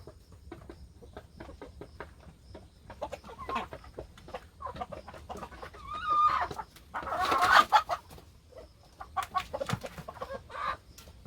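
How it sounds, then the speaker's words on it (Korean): Araucana, silkie and native Korean chickens peck at a native Korean pumpkin, with many quick, dry taps close by, soft clucks scattered between them and a louder flurry of squawks partway through. "신닭이 와가지고 다른 닭들을 쪼네요"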